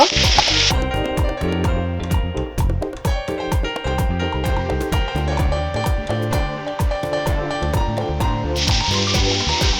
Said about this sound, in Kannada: ಇದನ್ನ ಇವಾಗ ಚೆನ್ನಾಗಿ ಫ್ರೈ ಮಾಡ್ಕೊಳ್ಳುವ